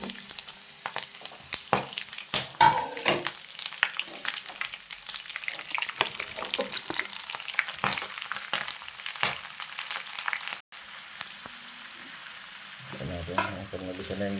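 Vegetables stir-frying in a pan for pancit, with a steady close sizzle broken by frequent scraping stirs and clatter. A brief voice and clink come in near the end.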